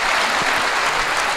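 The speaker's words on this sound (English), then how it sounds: "Let's give him a big round of applause for Bhavesh Patel" Audience at a talk show event gives a speaker a big round of applause, dense loud clapping filling the room briefly.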